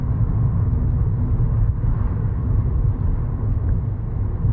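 A car engine in a VR driving game picks up speed as the driver shifts up a gear. It makes a steady, loud low rumble that continues without pause and has no talk over it.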